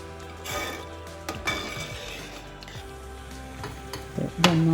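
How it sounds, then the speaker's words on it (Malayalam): Green gram dal payasam stirred in a pot, with soft scraping and gentle bubbling sizzle, closing in a brief louder clink near the end; no talking. "ഒന്ന് ഇളക്കി യോജിപ്പിച്ചിട്ട് കൊടുക്കണം കേട്ടോ"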